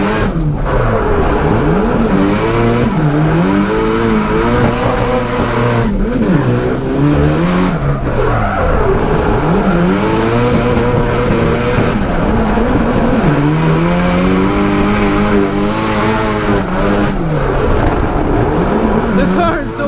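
A Nissan S13 drift car with its boost turned up revs hard and accelerates through the gears, the engine loud and close with rising and falling harmonic sweeps and a continuous roar. People talk throughout.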